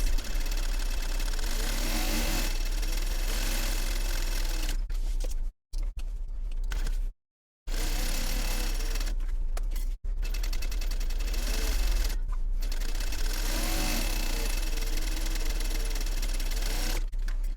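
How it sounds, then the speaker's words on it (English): A sewing machine stitches lining fabric for a Voyageur Cube bag with a 1/8 inch seam allowance, running loud and steady up close with a few brief stops and restarts along the way. "Now I want to sew all the way around using a 1/8 inch seam allowance"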